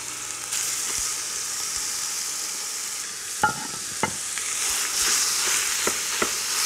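Minced meat fries over high heat in a pan for chili con carne, a steady loud sizzle with a few scattered clicks and scrapes from stirring, nearby and without talk.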